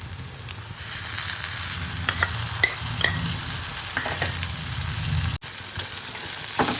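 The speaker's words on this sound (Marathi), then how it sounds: "आता आपण याच्यामध्ये बारीक चिरलेला टोमॅटो घालून घ्यायचा आहे" Finely chopped tomato sizzles with ginger and garlic in a pan for a bombil chutney, a continuous close frying hiss broken by repeated spoon scrapes and stirring clicks, with no voices.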